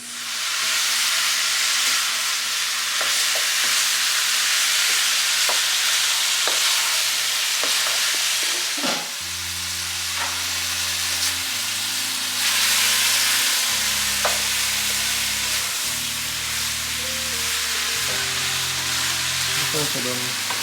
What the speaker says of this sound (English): Stir fry for 5 minutes.